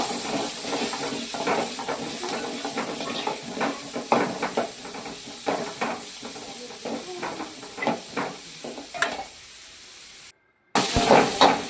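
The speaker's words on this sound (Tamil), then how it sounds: "இது எல்லாம் நல்லா ஃப்ரை ஆகட்டும்." Onions, green chillies, curry leaves and garlic fry in a pan with a steady hissing sizzle and occasional stirring clatter, fairly loud and close, cutting out briefly near the end.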